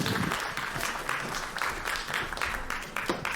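Audience applauding the cast and crew of a film at a broadcast production showcase, a steady dense patter of many hands clapping throughout with no speech over it.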